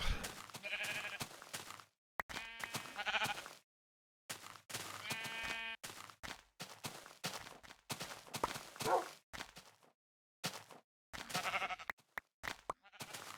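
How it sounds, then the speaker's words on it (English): Sheep bleat repeatedly in a video game, a series of close, clear bleats spaced by short silences, alone without talk. "A lot of sheep."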